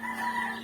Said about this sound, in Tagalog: Kulungan ng manok yan eh.